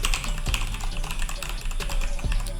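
Someone types on a computer keyboard up close, a fast, steady patter of key clicks with a few heavier strikes, and no talking over it.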